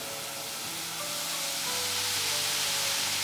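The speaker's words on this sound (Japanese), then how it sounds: "1分くらい経つと途中でわーっと泡が盛り上がってきます。" Mirin boils in a pot over medium heat, with a dense, steady bubbling fizz that grows fuller and louder as the foam rises.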